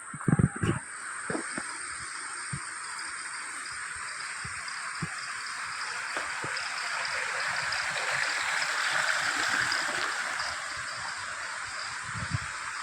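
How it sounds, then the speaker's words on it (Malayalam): The Manpilavu waterfall sends out a continuous broadband rush of flowing water, heard from a short distance and growing slightly fuller over time, with a few scattered knocks and rustles near the start. "ഇവിടെ നിന്ന് നമുക്ക് ചെറിയ രീതിയിലൊക്കെ കാണാൻ സാധിക്കും വെള്ളത്തിൻ്റെ ഒരു ഒഴുക്കൊക്കെ"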